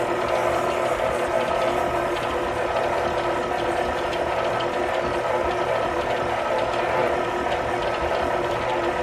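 Granulated and light brown sugar are creamed together with butter for apple bars, and an electric mixer gives a loud, steady whirring, rattling drone that continues unbroken and close by, without any talking.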